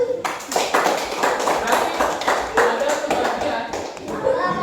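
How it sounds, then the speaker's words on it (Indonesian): A school class claps hands together in a burst of uneven, sharp claps with distinct individual hits, fairly close, while voices talk over them. "Tepuk tangan"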